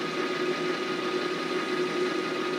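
A Kato sound box plays a steady ES-44 diesel locomotive engine loop for an N scale model layout, a constant idling hum and drone with no breaks and no talk.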